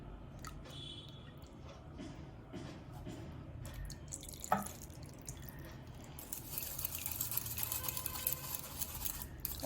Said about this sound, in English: I'm going to add the rest of the juice and the lye solution.